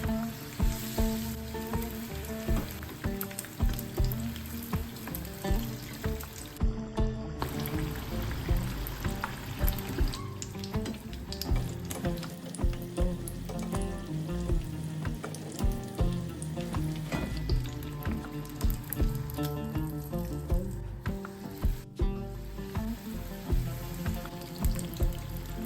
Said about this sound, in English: Now deep fry until golden brown.